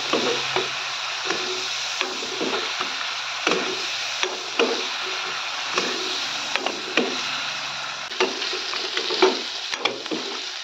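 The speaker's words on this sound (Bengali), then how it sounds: "পেঁয়াজ আর রসুন ছেঁচোটা ভালো করে নেড়ে চেড়ে নিব তেলের মধ্যে।" Onion and crushed garlic sizzle in oil while a spoon stirs them, sending sharp scraping clicks against the pan at irregular intervals over a constant close frying hiss, with no talk.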